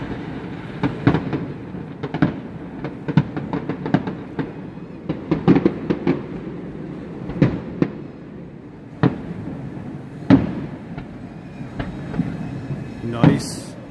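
Distant New Year's fireworks in Hawaii popping and banging at irregular intervals, sharp cracks over a low murmur of crowd and voices.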